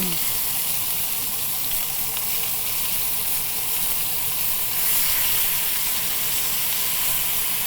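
Pork sizzles steadily in a frying pan on the stove, a loud, continuous crackling hiss with faint clinks, no voices over it.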